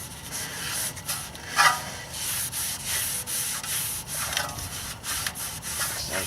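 A rag or cloth rubbing and wiping a brake rotor on a BMW X3 E83 during a pad and rotor replacement, steady scrubbing strokes repeating close up with no talk.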